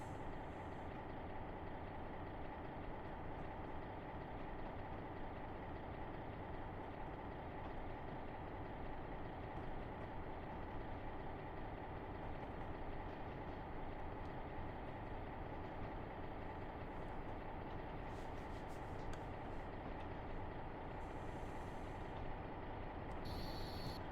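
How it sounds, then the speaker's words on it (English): Low, steady rumble of a Boston & Albany train on the Berkshire line, engine droning continuously and close with a constant heavy tone throughout, no voices over it. "So we can bring this train up to 50 immediately."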